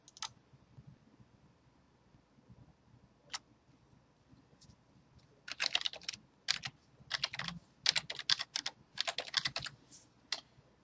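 Password typed on a computer keyboard, sharp key clicks starting as scattered single taps, then quick close bursts of typing, with no talk.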